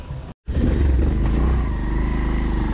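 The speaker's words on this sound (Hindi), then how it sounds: "अब हम बाइक में बैठेंगे" Motorcycle engine running close by, a loud, steady low rumble that starts abruptly after a short gap and continues with a slight pulsing rhythm.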